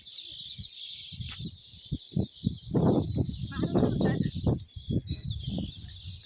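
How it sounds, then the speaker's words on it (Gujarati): Sparrows chirp steadily in the background of a millet field on a Kutch farm, while people talk loudly close by over the bird calls. "ચકલી હજી કલવલ કલવલ કરે છે"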